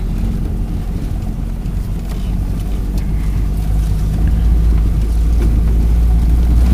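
A Honda Accord engine idles with a steady, rumbling low drone that stays constant and grows slightly louder, with some wind-like noise over the microphone and no talking.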